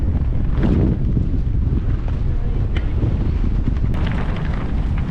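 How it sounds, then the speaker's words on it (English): Strong wind roars into the microphone throughout a mountain bike ride on Ari Signal Peak 3.0 XC bikes, a loud, constant low rumble with occasional bumps and rattles. "The wind is crazy."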